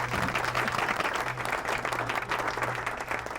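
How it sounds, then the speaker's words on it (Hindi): A crowd breaks into steady, dense applause, many hands clapping together at moderate loudness for a few seconds, with a low hum underneath and no voices. "बजाओ तालियां"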